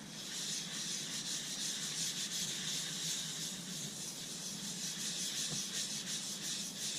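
Sandpaper rubs against a wooden vase spinning on a woodturning lathe, a steady, continuous hissing abrasion at moderate level with no breaks.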